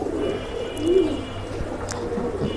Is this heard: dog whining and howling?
no